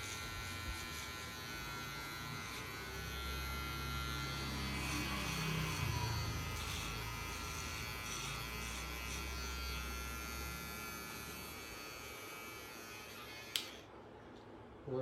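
An electric shaver buzzes steadily and close up while shaving a beard, humming continuously with slight shifts in tone, before a brief click and a drop near the end.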